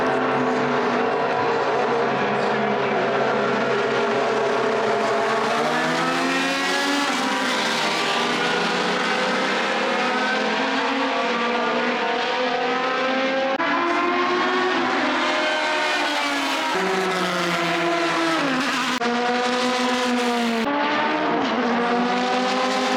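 Historic prototype race cars from 1982 to 1993, such as Porsche, Lancia, Jaguar, Mercedes, Toyota, Nissan, Mazda and Peugeot, roaring loudly at a historic Grand Prix, engines rising and falling in pitch through gear changes as they pass, with no voices.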